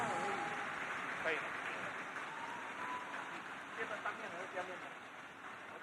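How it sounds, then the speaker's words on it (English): Bowling audience clapping for four finalists at an Open Masters stepladder final, a broad steady wash of applause filling the room with a voice talking over it and music-like tones underneath. "one more time, a big round of applause"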